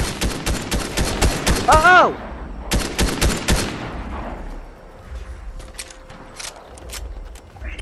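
Gunfire in the video game Fortnite, rapid bursts of shots in the first few seconds, then a second volley and sparser distant pops, loud and close, with a short voice exclamation over it.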